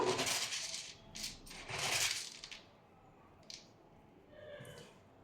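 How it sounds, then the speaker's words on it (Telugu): Coarse rock salt is poured in for tomato chutney, a close gritty rattle and patter of grains lasting a couple of seconds, then a few faint scattered ticks as it settles, without speech. "చూడండి నేను కళ్ళుప్పు అయితే యాడ్ చేస్తూ ఉన్నాను"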